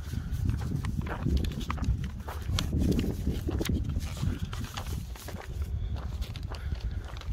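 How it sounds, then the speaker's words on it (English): Horses walking at the Tel Megiddo site in Israel, irregular hoof clip-clops partly masked by strong wind rumbling across the microphone throughout. "There's some horses here."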